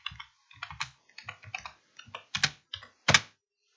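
Typing on a computer keyboard at an Arduino Nano programming bench: a quick run of light, close key clicks in small irregular clusters, ending with one firmer tap, no voices.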